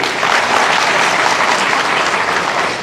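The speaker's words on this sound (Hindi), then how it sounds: "ताली बजाइए माननीय जज साहब के लिए" Dense, loud audience applause in a hall honouring a judge at a talk on religion-based laws, a steady wash of many hands clapping close and continuous with no voices over it.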